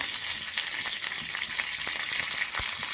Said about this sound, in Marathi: तेल तापलेलं आहे, तेलामध्ये पहिला कढीपत्ता टाकायचा